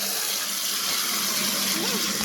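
Water gushes steadily from a tap while filling, a loud, even rushing hiss that runs without a break, with faint voices in the background.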